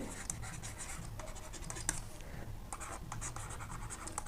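A pen scratches across paper close by as a trigonometry math problem is written out by hand, in quick strokes with brief pauses and no speech.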